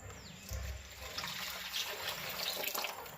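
Tamarind extract is poured into a pan of fish curry on the stove, making a steady, soft liquid splashing and trickling that continues quietly throughout with no voices.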